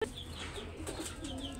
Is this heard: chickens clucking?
yes